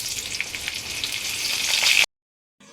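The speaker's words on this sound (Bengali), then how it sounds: "এবার দিয়ে দেবো মটরশুঁটিগুলোকে।" Green peas sizzle and crackle loudly in hot oil in a pan as a Bengali flattened-rice breakfast is cooked. The frying hiss grows stronger and then cuts off abruptly, with no talk.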